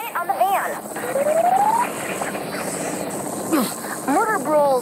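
A helicopter in the video game Saints Row: The Third Remastered gives off a steady rotor drone beneath voiced speech and gliding electronic tones, holding at moderate loudness throughout.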